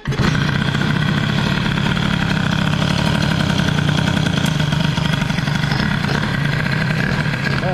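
A Peugeot 103 moped with an Airsal 65 air-cooled kit and internal rotor runs loud and steady after a start, its two-stroke idle chattering evenly throughout.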